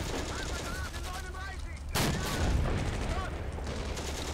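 A tank cannon in the Steel Fury game, set during Operation Barbarossa at the Bug River, fires a single heavy shot midway, a sudden sharp blast with a rumbling tail, while someone talks before and after.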